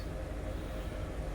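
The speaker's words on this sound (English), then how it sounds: "And that's the train again." A train passing in Microsoft Flight Simulator 2020 over Oslo, a steady low rumbling roar of rolling rail cars, continuous and fairly close throughout, with no talking.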